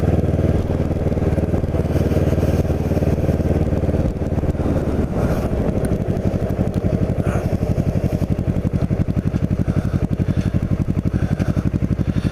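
A Kawasaki Ninja 650R sport motorcycle engine drones steadily and loudly throughout, its pitch shifting as the bike accelerates and cruises along.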